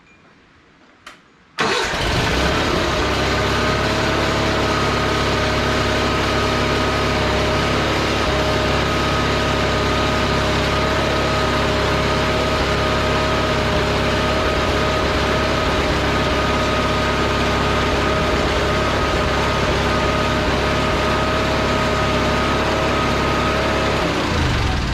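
1978 Roper 20T lawn tractor engine cranking and catching after a quiet moment, then running loud and steady at a constant idle for the rest of the stretch.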